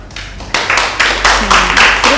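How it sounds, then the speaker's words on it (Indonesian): A classroom group claps hands for the winning team, a burst of mixed, uneven claps that builds after a quiet start and continues steadily, fairly close and loud. "Beri tepuk tangan."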